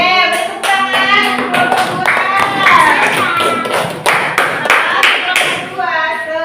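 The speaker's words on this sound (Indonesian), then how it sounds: "beri tepuk tangan" Students in an Islamic religious education class clap their hands together in loud, close, sharp rhythmic bursts while voices talk and call out over them.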